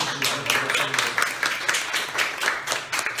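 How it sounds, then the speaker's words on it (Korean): A church congregation applauds the pastor's wife with sustained clapping, dense and even throughout, filling the room with many hands at once. "I want to give a hand to my wife."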